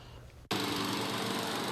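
A lawn mower engine starts abruptly and runs on at a loud, steady, buzzing drone, close by and with no voices over it.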